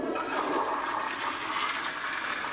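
A toilet flushing in a washroom in Canada in 1987, a loud rushing gurgle of water that surges and stays strong throughout, close by with no speech.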